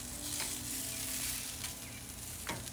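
Salmon skin sizzling on a grill after being flipped, a steady hiss of frying with a few sharp crackles and pops, close and moderately loud, with no talking.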